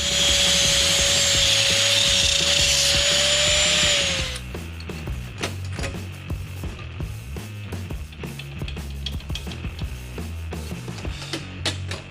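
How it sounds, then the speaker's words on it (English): An old thong is trimmed down with a tool, giving a steady high-pitched whine for about four seconds, then a run of scraping, clicking cuts and rattles up close. "Yes, I am cutting up an old thong."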